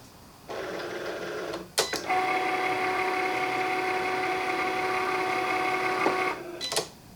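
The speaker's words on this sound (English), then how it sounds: "the first thing it's going to do is score our line for us" A Cricut cutting machine scores a line, starting with a short motor whir, a clack, then a steady mechanical hum with a faint pitched whine for several seconds before stopping with a couple of clicks; close and alone.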